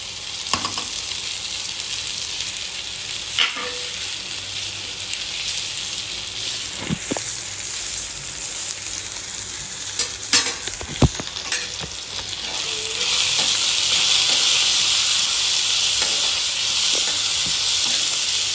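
Tomato and bitter gourd fry in a pan with a steady sizzling hiss, punctuated by scattered clicks and scrapes of stirring, and the sizzle swells louder toward the end; no one speaks.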